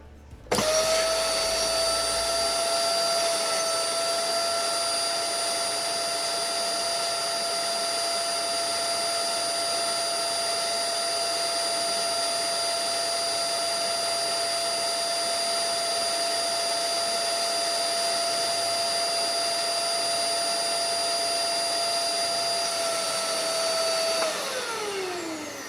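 A household vacuum cleaner, rigged to siphon liquid from one bottle to another, whines steadily and loudly for about 25 seconds, then spins down as it shuts off.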